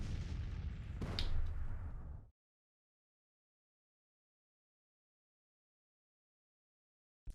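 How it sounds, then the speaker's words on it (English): Artillery fire in the Civil War strategy game Grand Tactician rumbles in a dense, booming burst, with a sharper report in the middle, then cuts abruptly to silence. "Beyond being smacked by the Union artillery."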